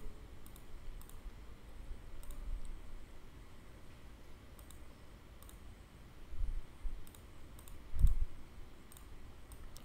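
Quiet, scattered clicks of a computer mouse in a still room, a few light taps spread over several seconds against a soft background hiss.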